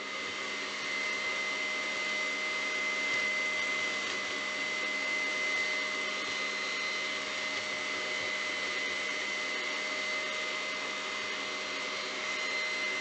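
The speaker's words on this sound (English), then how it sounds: "you really almost have to have a standing mixer in order to make chips of the gods" A stand mixer with its whisk spins steadily while whipping the batter for chips of the gods, a constant loud motor whine with a high steady hum and no talk.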